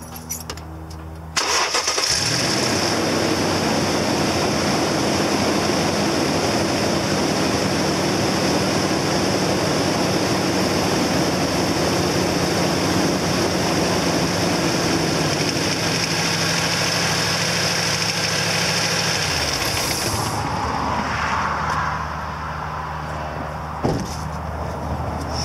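A 2008 Toyota Tundra engine cranks and fires, then settles into a loud, steady idle that runs for about twenty seconds before its pitch changes and dips near the end, with no talk.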